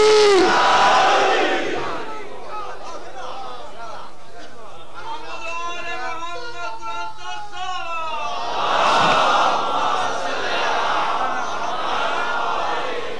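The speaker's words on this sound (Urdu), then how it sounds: "دونوں ہاتھ بلند کر کے نعرے حیدری" At a religious majlis gathering, a large crowd roars a slogan in unison, loud bursts at the start and again near the end, with a single voice chanting between them.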